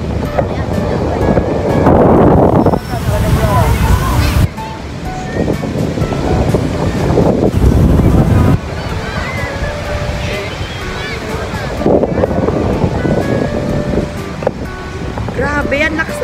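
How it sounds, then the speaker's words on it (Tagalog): Strong wind buffets the microphone at a beach with loud gusting rumbles, and ocean surf rolls underneath. The gusts surge and drop in bursts while a person speaks intermittently. "Grabe yan, lakas ng hangin."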